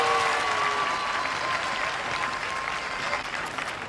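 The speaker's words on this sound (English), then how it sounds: "Give them applause, ladies and gentlemen" Outdoor crowd applauding a team at a 1982 It's a Knockout heat in Melton Mowbray, a broad, steady roar of clapping with a whistle-like tone fading early, slowly easing toward the end.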